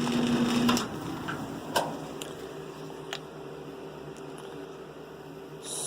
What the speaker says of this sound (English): My dryer has stopped drying. It's running now, been running for a few minutes.